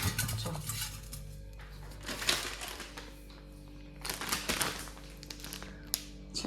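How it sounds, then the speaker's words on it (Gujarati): Besan (gram flour) powder heaped in a metal vessel is stirred and scraped together, giving irregular close scraping, tapping and crinkling clatter with a steady low hum underneath. "આપણે પાવડરના ઢગલા છે એમાં બધું મિક્સ પાછો કરવો પડશે"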